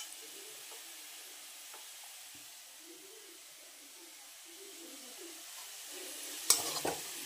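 Potatoes frying in oil, a faint steady hiss with light stirring, distant bird chirps and a louder clatter near the end.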